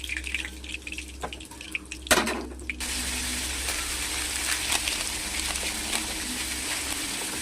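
Bata fish fry in hot oil, a steady loud sizzle and crackle close up, with a clatter of the fish going into the pan early on before the hiss settles into a continuous spitting rush.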